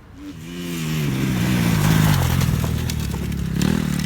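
A Kawasaki KX250F motocross bike on a track of jumps, its engine rising in a loud, close rev as the throttle opens, holding a steady buzzing drone before easing slightly, with no one speaking.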